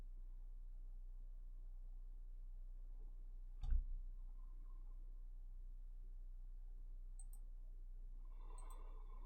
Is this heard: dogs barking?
no